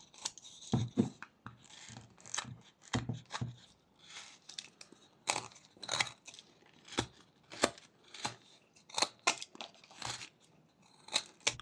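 Knife making short push cuts into wood while whittling a small penguin figure, a close series of quiet dry scraping and shaving strokes in an irregular rhythm.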